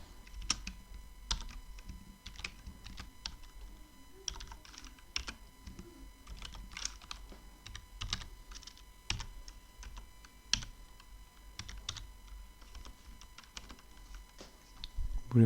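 Steady typing of Python code on a computer keyboard, with quick irregular key clicks, brief pauses and occasional heavier strokes, close but fairly quiet, with no voices.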